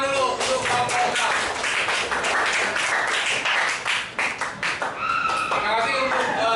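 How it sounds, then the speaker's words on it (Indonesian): Students in a classroom clap for a presenting student group, a lively patter of hands with some talk and voices mixed in. "Tepuk tangan dulu untuk kelompok 6."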